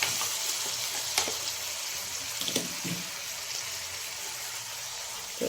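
Carrots and spaghetti fry in a pan with soy sauce, making a steady, moderate sizzle. Intermittent clinks and scrapes from stirring punctuate it, with no talking.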